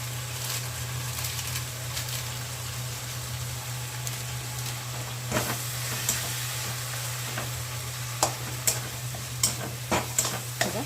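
Spice masala with Kashmiri chili powder fries in oil with a constant sizzling hiss over a low steady hum, joined later by a series of crisp spatula clicks and scrapes at irregular intervals.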